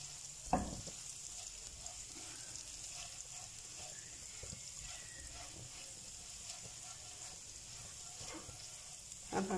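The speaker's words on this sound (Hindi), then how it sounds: "लहसुन को हम लाइट सा गोल्डन कर लेंगे।" Garlic ginger paste fries in oil in a pan with a faint, steady sizzle and soft crackle, broken by a sharp utensil clank near the start and light stirring knocks.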